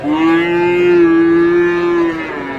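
A bull calf of Friesian or cross breed lows in one long, steady moo at a busy cattle market, close and loud, with faint crowd noise behind it.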